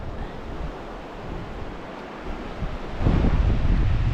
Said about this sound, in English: River's flowing fairly good.